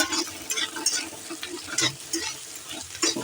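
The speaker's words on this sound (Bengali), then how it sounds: "দেখুন পুরো আলুটা ভাজা ভাজা হয়ে গেছে" Potatoes frying in a pan: a steady sizzle with irregular scraping and stirring clicks, moderately close and continuous, with no voices.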